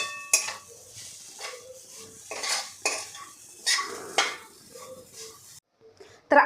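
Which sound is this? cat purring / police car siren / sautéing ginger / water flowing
sautéing ginger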